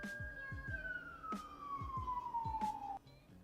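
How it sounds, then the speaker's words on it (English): A single siren wails in the distance outdoors, one long tone gliding slowly downward over about three seconds and then stopping, faint behind nearby low thumps and knocks. "Oh, sirens."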